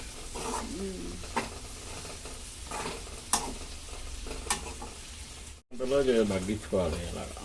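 Chicken fry stirred in a pan with curry leaves and coriander, a steady sizzle under repeated spatula scrapes and clinks, with voices talking over the cooking throughout.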